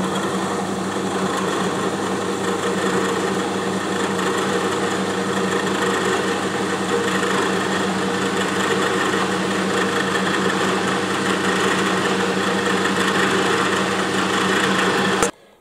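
Steady high-pitched whine of a small machine spindle cutting a spotting dimple with a single-lip D-bit cutter, a continuous close, even drone lasting about fifteen seconds before stopping abruptly, with no talking.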